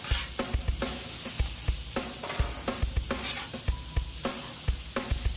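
Food seasoned with garlic, salt, onion powder and pepper sizzles on a hibachi grill, a steady close frying hiss broken by rhythmic spatula scrapes and clacks against the hot metal.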